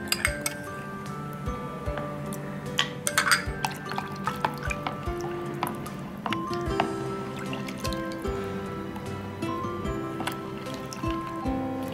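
Ground cumin, pepper and coconut paste are mixed into chopped banana stem for a buttermilk drink, with steady clinks and wet, squishy stirring against a glass or steel vessel close by and no talk.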